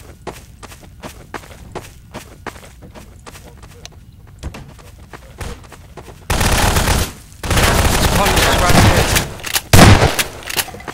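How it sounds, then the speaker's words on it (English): Gunshots in the Prop Hunt video game, a quiet stretch of light footsteps and taps followed by dense, loud bursts of rapid gunfire in the latter half, with a person talking at times. "That cup just moved. I'm shooting it."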